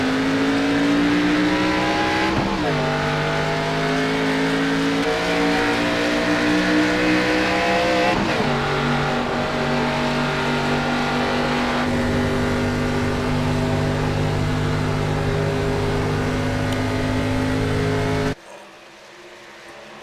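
Race car engines roar and rev hard on a restart at Charlotte, pitch climbing and dropping through gear shifts as the pack accelerates, loud and continuous before cutting off sharply.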